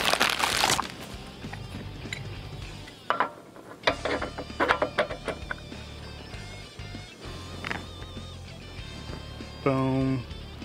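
A ratchet with a 1-inch socket tightens the driven pulley on a TrailMaster Storm 200 minibike, making bursts of rapid, loud clicking close by, with metallic clanks of parts in between.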